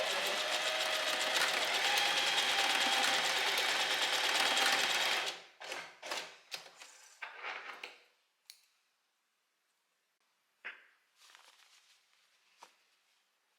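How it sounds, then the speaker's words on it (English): Sewing machine closing the elastic end on a little black dress, a steady buzzing run for several seconds, then short stuttering bursts and scattered handling clicks in near silence. "And now I'm going to sew this end closed."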